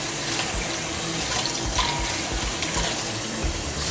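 Tap water runs steadily into a sink as fresh thyme sprigs are rinsed and washed, a continuous splashing hiss with small shifts as the stream hits the leaves, close and alone.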